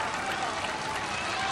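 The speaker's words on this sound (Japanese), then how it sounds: "お客さんの拍手が湧いています。" Roadside spectators applauding at the Heiwajima turnaround of the 1991 World Championships men's marathon in Tokyo: a steady, even wash of crowd clapping and noise with no breaks.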